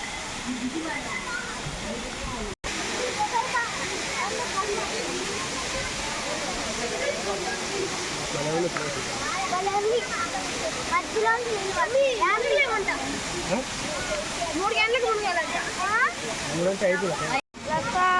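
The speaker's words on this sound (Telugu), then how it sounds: "వాటర్ ఫాల్స్ అయితే భలే పడుతున్నాయి ఫ్రెండ్స్." The waterfall at Bhairavakona roars in a steady rushing wash throughout, while a voice speaks over it at times.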